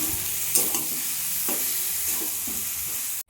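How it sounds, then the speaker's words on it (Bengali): A hilsa fish head and taro greens are stirred in a hot pan, with soft spatula scrapes and steady oily sizzling running throughout and a few brief knocks, close and alone. "এবার ইলিশ মাছের মাথাটা দিয়ে দেওয়া হলো দিয়ে একটু নেড়ে চেড়ে নিতে হবে শাকটা কচু শাকটা দিয়ে দেওয়া হলো"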